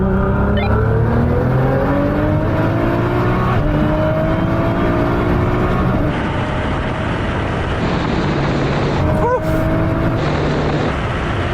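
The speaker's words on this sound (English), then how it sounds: "Right, Sam, what we're going to do this time is 50 mile an hour third gear roll on." Tuned Nissan GT-R engine pulling hard in third gear from a 50 mph rolling start in a drag-style roll race, a loud, sustained rising engine roar with wind and road noise, a brief shift or gap near the end.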